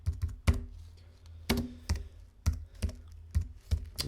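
Someone types on a computer keyboard while entering text in Adobe Illustrator, with close, distinct keystrokes in uneven bursts and short pauses between them, and no voices.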